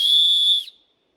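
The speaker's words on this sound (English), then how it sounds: "that whistle will carry a long ways through the forest or valleys" A survival whistle gives one loud, shrill blast lasting about half a second, then cuts off sharply and leaves silence.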